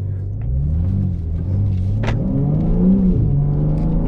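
BMW M3 engine idling in sport mode, a steady deep rumble with a slight rev swell midway, heard close from inside the car and without any talk.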